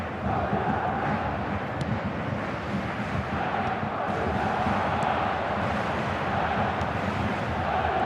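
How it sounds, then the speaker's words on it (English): Steady stadium crowd murmur in an eFootball 2025 match, a broad continuous roar with no swells or chants, running evenly throughout and fairly loud. "the crowd have tried to spark some excitement, but to no avail"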